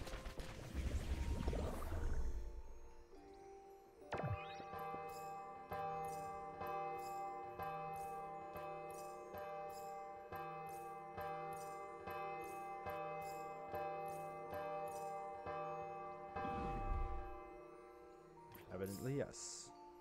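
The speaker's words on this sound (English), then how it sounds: "Does she want me to ring the rest of those bells?" Bells ring in the video game Hauntii, a steady series of tonal strikes sustained over a backdrop of game music, with a person talking briefly at the start and near the end.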